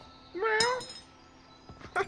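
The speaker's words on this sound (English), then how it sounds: "Goddamn cat." A cat in the video game A Way Out meows once clearly, rising and falling, followed by a brief shorter mew; quiet with a few soft clicks between.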